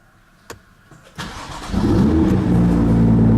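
An AC Schnitzer ACL2, a BMW M2 carrying a 570hp M4 engine and fitted with an aftermarket back box exhaust, is keyed on with a few clicks. The engine then cranks and fires into a loud, close, steady idle.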